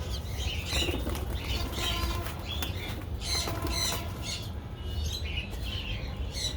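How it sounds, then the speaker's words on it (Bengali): A young pigeon flaps its wings in several quick, close bursts, with faint squeaks between the flurries. "এখন কিন্তু পুরোপুরিভাবে উঠতে পারে কবুতরটা"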